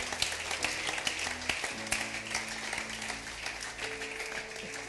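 A church congregation claps and cheers acclaiming Jesus during a sermon by Pastor Frederic Libert, a dense burst of applause filling the room for a few seconds.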